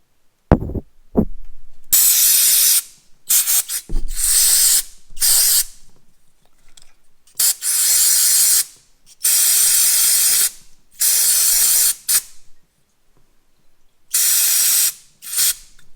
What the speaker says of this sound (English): We can spray a little bit also inside in the hole.